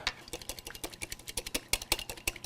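A whisk taps rapidly against a bowl while mixing potato salad with salt and pepper, a quick, fairly regular series of light clicks at moderate volume with no talk.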